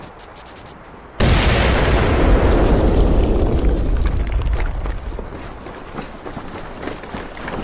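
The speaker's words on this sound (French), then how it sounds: "Il va falloir que tu la fasses exploser." A loud explosion in a video game blows open a locked entrance, bursting in after a few short clicks and rumbling into a long, slowly fading roar with debris.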